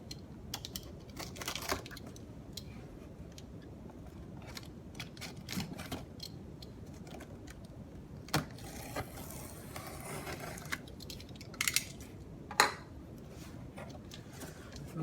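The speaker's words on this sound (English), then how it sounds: "now I'll cut the tape and open it up" Packing tape is sliced and a cardboard box holding an Arduino board and Braccio robotic arm is pulled open, with a string of light scraping, tearing and crinkling clicks over a steady room hiss and a few sharper snaps near the end.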